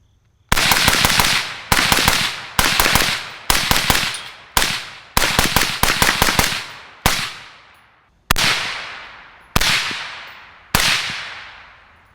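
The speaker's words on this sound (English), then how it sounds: "But let's shoot it fast right here into the berm and see what we get." A suppressed gun is fired quickly into a dirt berm: a string of about a dozen sharp, loud cracks, each with a short fading tail, coming in rapid bursts and then spaced further apart toward the end.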